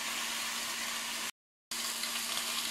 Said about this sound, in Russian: Палтус шкварчит и жарится в гриле.